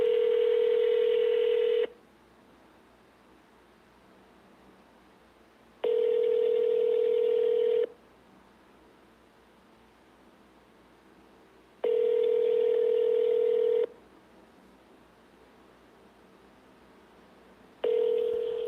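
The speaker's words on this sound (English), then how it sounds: "To reach Executive Assistant Julia Hurt, dial extension 24" On a phone call, a telephone line tone sounds in evenly spaced two-second bursts separated by longer silences, repeating three and a half times, clear and alone.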